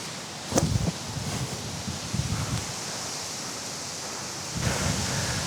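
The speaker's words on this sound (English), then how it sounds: "This wind is not being very nice to me today." Steady wind gusting across an outdoor disc golf course, a continuous broadband rush that swells near the start and again near the end, with no voices.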